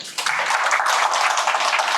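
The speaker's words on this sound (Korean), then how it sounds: "박수로 맞이해 주세요" An audience applauding to welcome a lecturer at a public science talk, dense, steady clapping that swells in after a brief quiet moment and holds evenly, with no speech over it.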